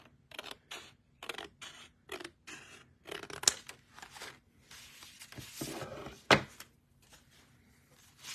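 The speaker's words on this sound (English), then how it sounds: "I'll just take my scissors and chop away a little bit" Close, crisp snips of scissors cutting paper, a quick series of short strokes with brief pauses and a rustle of paper between cuts.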